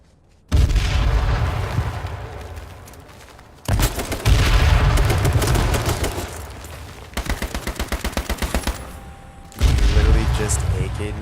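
AK rifle fire in the video game H1Z1 comes as loud bursts of gunshots, including a rapid automatic stretch, with a voice talking over the shooting.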